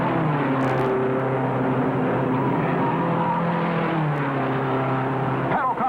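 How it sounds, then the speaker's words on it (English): Race cars roar away from the start of the 1957 Indianapolis 500, a dense continuous engine drone with overlapping rising tones, loud and steady throughout, as from an old film soundtrack. "Pat O'Connor's number 12 roars away from the pole position to the lead"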